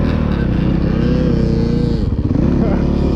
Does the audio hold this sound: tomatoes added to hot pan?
no